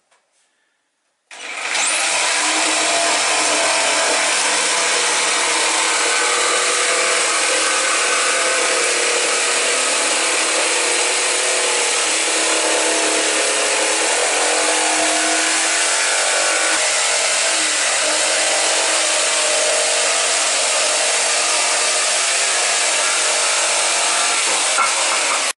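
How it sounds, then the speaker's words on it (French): Steady, continuous sawing through a wooden plank being cut for a toy boat hull, loud and close, running unbroken for over twenty seconds with no talk. "Bon, tu vas commencer à scier."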